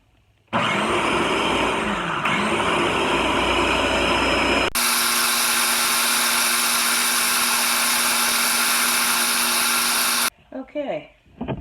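A food processor whirs loudly while blending brown mustard, whining steadily, then shifting to a harsher, fuller roar for several seconds before cutting off into a few soft knocks.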